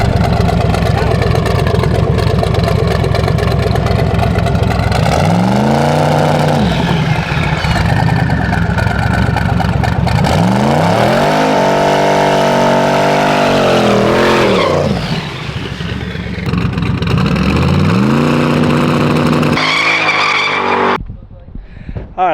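A race truck named Rougarou revs and drives across a rough, tricky track, its loud engine surging and dropping repeatedly with tyre noise, and voices are heard over it.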